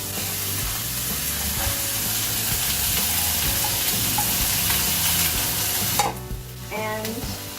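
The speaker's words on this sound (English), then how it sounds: "The next step is to put in the rice." Rice is stir-fried with crispy browned chicken in a hot pan, a dense steady sizzle with scraping stirs throughout, easing off near the end.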